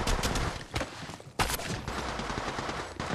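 Rapid bursts of automatic gunfire from the Apex Legends Mobile video game, loud and dense, crackling in clustered volleys with a brief lull partway through before the shooting resumes, with no talking.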